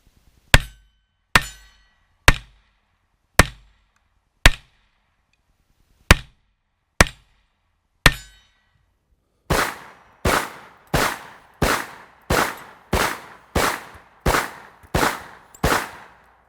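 A Hi-Point carbine and C9 pistol fired outdoors: first about eight loud, sharp single shots spaced roughly a second apart, then a quicker run of about ten shots in steady succession, each crisp and close with a short decay.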